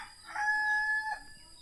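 A rooster in a forest village in Laos lets out one clear crow lasting under a second, fairly close and loud, with quiet rustling around it and no talking.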